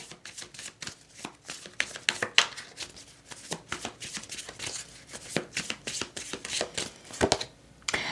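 A deck of oracle cards is shuffled up close in a quiet room, giving a run of soft, quick riffling flicks and slaps in an irregular rhythm.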